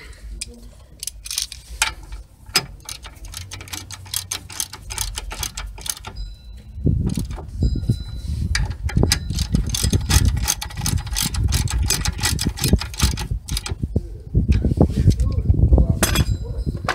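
Ratchet clicking and metallic clinks while tightening brake caliper bolts on a 2012 Kia Soul front brake job, close and busy, with a louder stretch of tightening in the second half and no talk.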